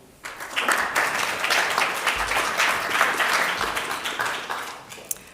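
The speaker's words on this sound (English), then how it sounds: "An applause, please." Audience at a conference session on indoor mapping bursts into applause, a dense, sustained clapping that swells quickly and fades toward the end, with a faint voice near the close.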